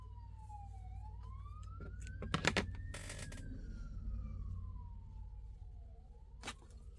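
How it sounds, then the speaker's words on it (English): Ambulance or fire truck sirens passing outside, a faint wailing tone rising and falling over steady low traffic rumble, with a few nearby clicks and taps. "I don't like that when you hear more than one ambulance go by,"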